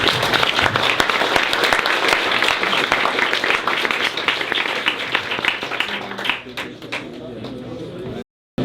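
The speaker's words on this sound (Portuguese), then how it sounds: "Salve de palmas para o professor Michel." Audience applause for Professor Michel Spira at a UFMG lecture: dense, steady clapping from a large room that holds loud for several seconds, then thins and fades before cutting off.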